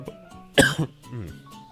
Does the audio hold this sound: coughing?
yes